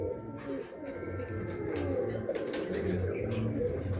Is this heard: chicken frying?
no